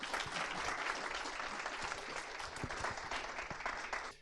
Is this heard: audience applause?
yes